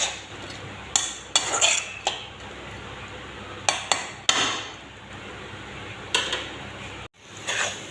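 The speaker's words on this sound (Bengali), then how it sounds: "কষাতে থাকব যাতে মাংসের জল সব শুকিয়ে যায়" Meat being stirred in a cooking pot as its juices dry off, with sharp intermittent clanks and scrapes of a utensil against the metal pot in irregular bursts over a quiet background.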